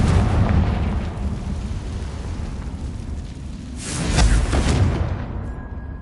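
A Confringo blasting spell goes off in a video game, a loud, close, rumbling explosion that rolls on for several seconds, swells again with a second burst, then fades, with no talking.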